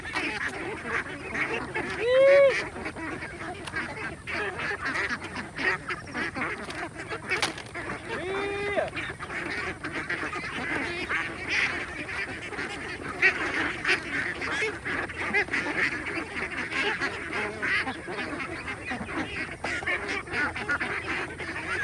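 Free-range itik ducks quack and honk while feeding on scattered bran and corn, a steady flock chatter with a few louder nearby calls standing out.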